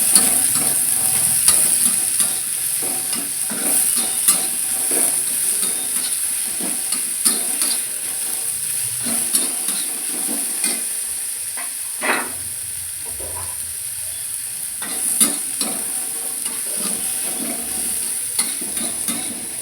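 Garlic and onion fry in a pan while being stirred, producing a continuous close sizzle and hiss punctuated by frequent scraping strokes of the spatula, with no voices.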